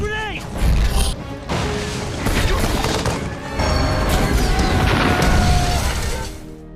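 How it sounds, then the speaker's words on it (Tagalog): An ammunition depot explodes amid roaring fire in a war film scene, with heavy booms and crashing debris in a dense, loud wall of sound lasting several seconds. "sumabog ang ammunition depot sa naglalagablab na apoy"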